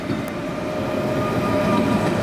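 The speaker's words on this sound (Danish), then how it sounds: "Her er vi i IR4-toget 2013'eren." Interior of a Danish IR4 passenger train with red doors, a steady loud rumble of wheels and running gear filling the car with a constant hum, no voices.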